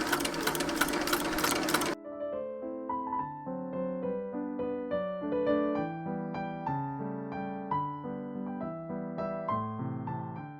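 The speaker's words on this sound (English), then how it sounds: "Fold the edge once again and stitch on top of the second stitch." A sewing machine stitches a rolled hem on a ballerina wrap skirt in a loud, rapid two-second burst, then stops as melodic piano-like music takes over for the rest.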